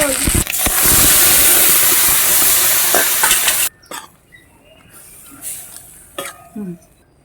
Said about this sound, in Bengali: এই কালো জিরাটা ফোড়ন দিয়ে দিচ্ছি এই আদাটা ফোড়ন দিয়ে দিচ্ছি